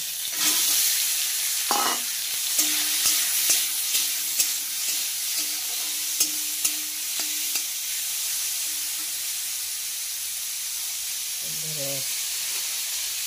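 Chopped tomatoes fry with a loud, steady sizzle in a pan, broken by repeated light taps and scrapes of stirring, close up; a short voice-like sound near the end sits over the hiss.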